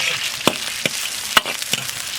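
Bean paste and soaked spices, including tsaoko, fennel, star anise, Sichuan peppercorn, bay leaf and angelica root, stir-fry in a pot, giving a steady sizzle broken by several sharp scraping strokes of the spatula.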